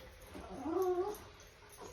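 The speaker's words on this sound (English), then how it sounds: "my dog is trying to overtalk me" A dog whimpering: one drawn-out, wavering whine rises and fades in the middle, close to the microphone, with no other sounds.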